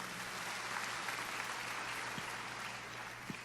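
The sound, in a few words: applause in church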